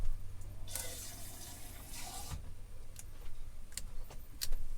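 Tap water runs into tin cans to fill and rinse them, a soft splashing and trickling with a few brighter clinks and pours, fairly close but quiet, with no talking.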